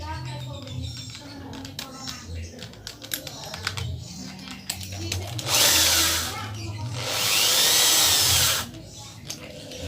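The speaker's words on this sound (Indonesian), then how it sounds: "Saya pasang di bor dulu." Electric drill holding a cracked gun barrel for repair, spinning up in two loud high-pitched bursts of several seconds each after a stretch of clicking handling noises, with a voice talking.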